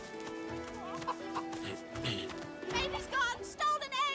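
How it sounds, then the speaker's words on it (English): Hens in Divinity: Original Sin II cluck and squawk in a busy flurry over game music and ambience, loud and close, with several calls overlapping. "And still the chickens."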